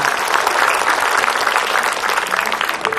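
Dense, sustained applause from a studio audience fills the space for a religious talk show, loud and continuous with no pauses.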